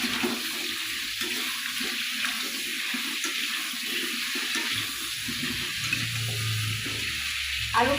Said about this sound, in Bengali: আলুটা একটু ভাজা ভাজা হবে